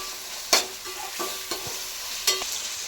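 Garlic ginger paste being stirred in a frying pan, with a soft sizzle underneath and a few sharp scraping knocks from the spoon at irregular intervals.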